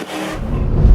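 An LS V8-swapped 1980s Porsche 944 sports car roars past, a brief, loud engine sound that swells and grows heavier toward the end.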